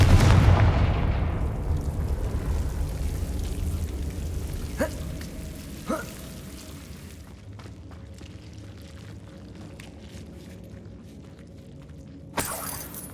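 A Confringo blasting spell explodes in Hogwarts Legacy: a loud, booming blast that rolls off into a long fading rumble, followed by a few faint clicks and a sharper crack near the end.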